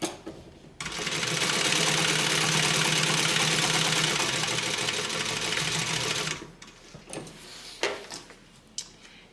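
Sewing machine running steadily while stitching a welt zippered pocket on a bag, one loud continuous whirring run of about five seconds, then a few short clicks and handling sounds.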